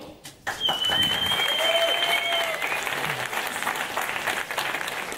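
Sustained audience applause at a Slovak podcast award ceremony fills the whole stretch after a brief quiet start, steady and dense with a faint tonal whine running beneath the clapping.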